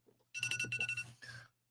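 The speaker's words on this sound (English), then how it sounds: "That was my alarm to take my blood pressure medicine and to call my god kids." A phone alarm goes off in a quiet room, a short burst of bright, buzzy electronic ringing tones lasting about a second, followed by a brief second chirp, fairly close.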